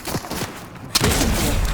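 A single sharp gunshot from the Fortnite video game cracks loudly after a second of quieter game sounds and is followed by a noisy rumble.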